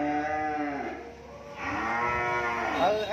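Cattle moo at a cattle farm in Mỏ Cày Bắc district, giving several long, loud, close lowing calls in succession with no talk over them.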